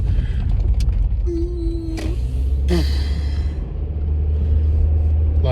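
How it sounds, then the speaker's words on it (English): Road traffic heard from inside a moving car, a steady low engine and tyre rumble with a few brief squeaks and passing sounds over it. "there's just more traffic up ahead"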